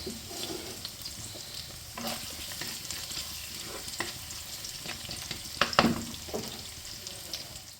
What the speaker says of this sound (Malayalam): ഇഞ്ചിയൊന്ന് മൂത്ത മണമൊക്കെ വരുന്നുണ്ട് ആ സമയം ഞാൻ വലിയ ഉള്ളിയും കൂടെ അരിഞ്ഞത് ഇട്ട് കൊടുത്ത്